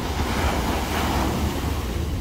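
Surf washing onto a small beach at Playa Blanca, Lanzarote, a steady close wash of waves mixed with wind rumble on the microphone, with no voices.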